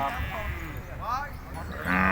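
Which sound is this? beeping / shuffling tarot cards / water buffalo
water buffalo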